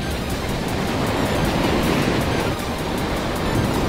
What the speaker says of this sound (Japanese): その干潮の今ですらこっちから波飛び越えてますわ。